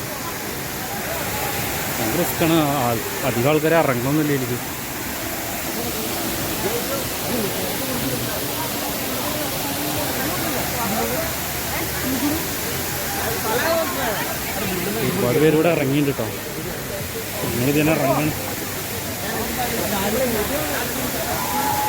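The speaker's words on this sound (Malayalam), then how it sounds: "നല്ല കുത്തി ഒലിച്ചു വരുന്ന വെള്ളച്ചാട്ടാണ്" Anayadikuthu waterfall in Idukki rushes with a constant broad roar, heard under someone talking nearby for most of the clip.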